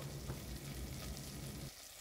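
Potatoes and other ingredients for maqluba frying in animal fat, a dense close crackling sizzle with stirring, steady and loud, then briefly quieter at the end.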